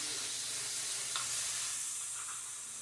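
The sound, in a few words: curry sizzling in a pan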